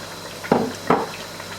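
Tomato paste goes into a pan of frying chicken karahi, giving two short bursts of wet sizzling and utensil contact over a low, steady kitchen background.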